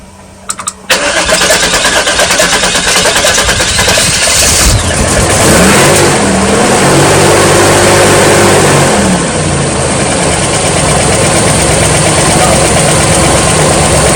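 A 1996 Chevy Tahoe cranks and catches, then settles into a steady, loud idle with some rising revs, while people talk nearby.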